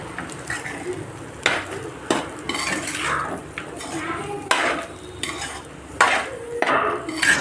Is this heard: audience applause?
no